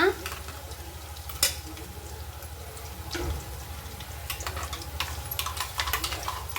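Onion fries in a pan for a mint and cumin chutney, a moderate sizzle with clinks and scrapes from stirring, a few louder knocks, and a faint watery undertone.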